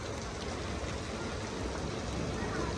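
The first summer rain pours down heavily in a steady, dense wash of falling drops that stays even and loud throughout, with no talk over it.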